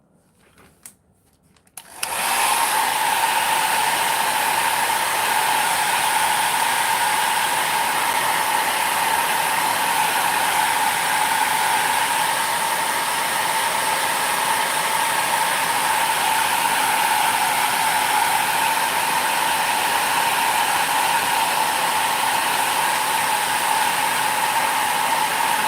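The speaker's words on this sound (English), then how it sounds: "This is a hair dryer" Hair dryer used as a craft heat tool switches on after a brief quiet moment, then runs as a loud, steady whooshing whine for the rest of the stretch.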